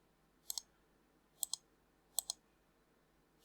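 A computer mouse clicks sharply in quick double clicks, four pairs spaced about a second apart against a quiet background, with no voices.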